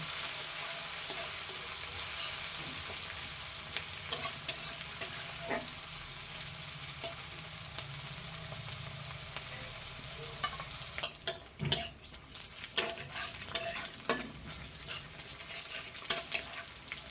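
Chopped onions sizzle steadily in a hot pan, with a spoon scraping and clattering more often in the later half, close up and with no talking.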